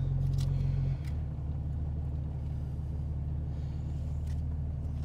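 A truck engine idles with a steady low rumble, its pitch dropping slightly after a second, running continuously and close by.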